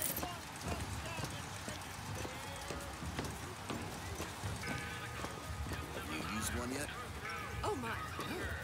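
A mechanical horse in the video game BioShock Infinite clip-clops steadily through a busy city scene, with hoofbeats repeating under a murmur of background voices and ambient clatter.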